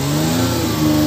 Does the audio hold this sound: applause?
no